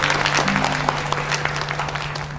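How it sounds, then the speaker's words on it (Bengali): A short burst of loud applause from a group of people clapping together, steady and dense throughout, with a low hum running underneath. "একটা জোরে হাততালি।"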